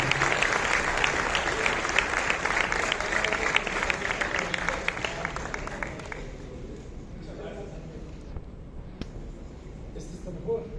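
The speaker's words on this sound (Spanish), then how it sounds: "les pido un fuerte aplauso" A lecture audience applauds in welcome for architect Abraham Cota Paredes at a university talk, a dense, steady wash of many clapping hands that slowly thins and fades toward the end.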